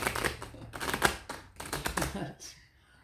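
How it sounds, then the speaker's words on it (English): Two decks of playing cards being shuffled together, a run of crisp riffling bursts and soft slaps in quick succession, close and fairly loud with no talking. "Being two decks, it takes a bit of shuffling."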